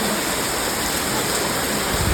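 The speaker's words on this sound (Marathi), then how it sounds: "भरपूर पाऊस तर म्हणजे चालू झालं आहे" Dense, steady rush of heavy rain pouring down, a continuous broadband hiss with no breaks and no voices.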